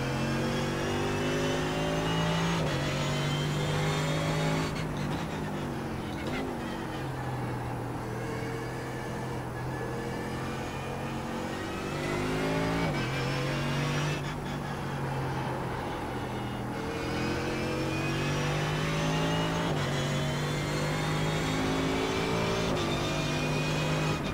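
A Mercedes AMG GT3 race car roars around the Spa circuit in the iRacing sim, its engine climbing through revs and dropping at each shift, loud and continuous throughout.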